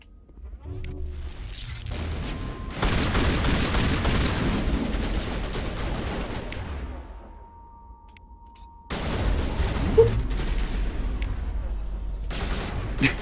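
Gunfire in Mass Effect Legendary Edition, played on Xbox Series X: dense bursts of rapid shots in two long stretches separated by a quieter pause, loud and close, with some voice underneath.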